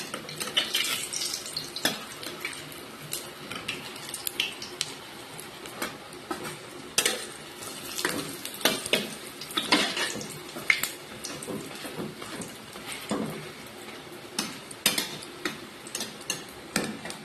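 Fish fries in a pan and gets flipped with a metal utensil, sharp scraping clinks and knocks over a continuous crackling sizzle, close up with no talking.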